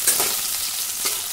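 Onions frying in a pan, a dense, even sizzle heard up close with faint stirring movement and no voices.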